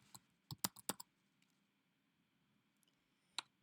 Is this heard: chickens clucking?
no